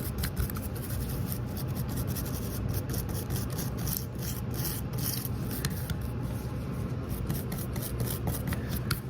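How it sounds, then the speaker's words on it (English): A small brush scrubs exterior door hardware pieces with rapid, close, scratchy back-and-forth strokes in a continuous rhythm, alone and fairly quiet. "I'm going to take a little brush and I'm just going to kind of scrub all the pieces"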